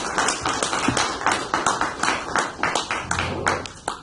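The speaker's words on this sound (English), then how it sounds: "Let's give Joseph a big round of applause" A live audience claps for a departing guest speaker named Joseph, a moderately loud, irregular patter of hands that swells and dips for about four seconds with no talking over it.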